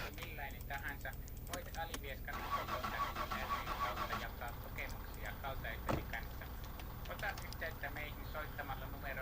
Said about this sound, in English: And I'm actually going to drive the car up.